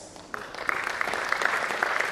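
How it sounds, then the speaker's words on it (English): Audience applause at a World Mental Health Day event, rising quickly from a scattered start into a steady wash of clapping that carries on for about two seconds. "Another round of applause"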